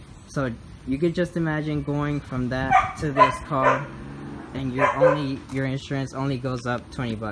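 A dog barks and whimpers intermittently in the background, faint and partly masked beneath someone talking steadily about car insurance costs indoors.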